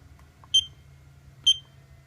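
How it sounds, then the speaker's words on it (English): Two short, sharp electronic beeps from a Turnigy Reaktor battery charger's buzzer at power-up, about a second apart over a faint low hum, fairly loud and close. "Buzzer, still kind of loud, but not as bad as before."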